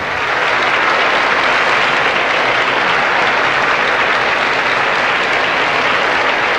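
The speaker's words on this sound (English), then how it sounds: "I think your cheering section rivals Mexico's." Dense, loud, continuous applause and cheering from a large audience at the 1988 Miss Universe beauty pageant, a steady wash of clapping without a break.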